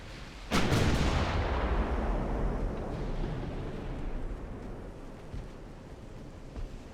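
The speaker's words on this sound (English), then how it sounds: "Here come torpedoes now." Naval explosions as torpedoes strike ships in the warship game Ultimate Admiral: Dreadnoughts, one sudden heavy boom followed by a long rumbling, roaring decay, distant and fairly quiet.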